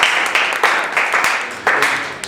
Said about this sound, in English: let's get a little round of applause for that